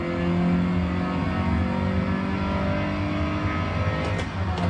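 A manual-transmission car engine revs hard toward redline in fourth gear, a loud sustained rising drone with strong harmonics that holds steady before a brief dip near the end, with no talk.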